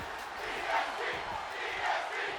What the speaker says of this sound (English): And the crowd here, well and truly behind the EST